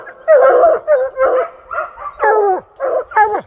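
A hound puppy on a bear hunt in the BC wilderness gives a run of about eight yipping barks and whimpers, close and loud, with short pauses between them.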